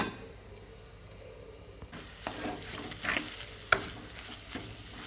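Tomatoes and masala sautéing in a pan for a Kerala squid roast, a soft steady sizzle with occasional spoon scrapes and a sharp clink, fairly quiet and without speech.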